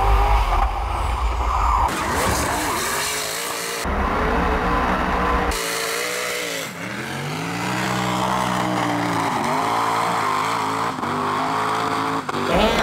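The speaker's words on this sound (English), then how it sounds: "He's non-stop drifting, like left, right, left, right." Ken Block's car drifting hard left and right, tires squealing almost continuously while the engine revs and drops, loud and close, with no voices over it.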